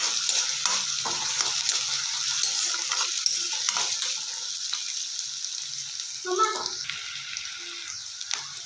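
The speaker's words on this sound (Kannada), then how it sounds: "ಚೆನ್ನಾಗಿ ಒಂದು 2-3 ನಿಮಿಷ ಈರುಳ್ಳಿ ಚೆನ್ನಾಗಿ ಮೆತ್ತಗಾಗುವವರೆಗೆ ಹುರ್ಕೊಳ್ಳೋಣ" Onions fry and are stirred in a pan for a green beans palya, giving a steady close sizzle broken by scraping stirs, with a brief voice partway through.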